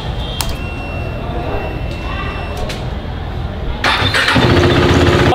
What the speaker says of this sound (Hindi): लगा नहीं था कि एक बार में चालू हो जाएगी, दूर दशा थोड़ी खराब है बाइक की।